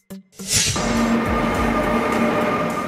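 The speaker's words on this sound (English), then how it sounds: "Regional train." A regional train rushes past close by after a brief thump, settling into a loud, sustained rumble with a steady whine and faint wheel clatter.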